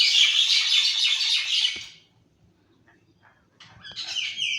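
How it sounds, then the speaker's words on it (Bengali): Birds squawk and chirp loudly in a dense burst, fall quiet for a moment, then start up again with sharp, excited calls near the end. "পাখিগুলো চলে এসেছে।"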